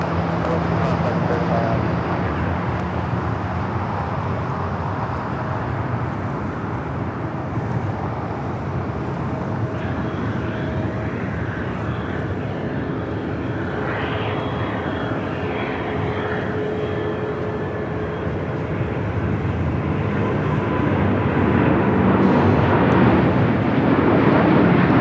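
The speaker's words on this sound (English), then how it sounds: "This is LL Flight 6 taking off to Tel Aviv, Israel" An El Al Boeing 787-9 Dreamliner rolls down the runway at Los Angeles International Airport bound for Tel Aviv, its engines a steady broadband roar that swells louder toward the end.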